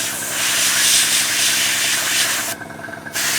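An airbrush sprays paint onto a 1/35 Academy M10 Duckbill model tank. The close, loud, steady hiss stops briefly near the end, then resumes, with no talk.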